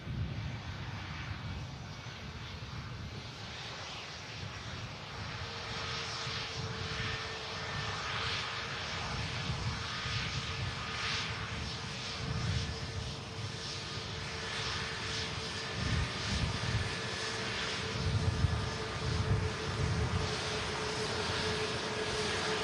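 Pegasus airliner taxiing at an airport, a steady distant jet engine whine and rumble with a faint tonal hum, rising slightly in loudness toward the end.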